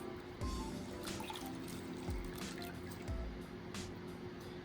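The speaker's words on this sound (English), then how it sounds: "we're going to submerge a disposable sponge into a bowl of warm water, squeezing out the excess" Disposable sponge dunked in a bowl of warm water and squeezed, giving soft sloshing and several trickling, dripping bursts at close range in a quiet room.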